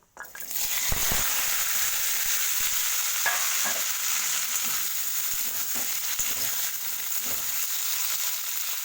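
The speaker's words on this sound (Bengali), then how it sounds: "উপকরণগুলো খুব ভালো করে ভেজে নিতে হবে" Steady sizzling of spices frying in hot oil for a vegetable-stem curry, with occasional stirring scrapes and clinks throughout, close up and continuous.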